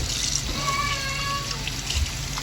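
Tap water runs and trickles over raw turkey wings being rinsed for a wood-fired cooking session, a short continuous splashing hiss at close range.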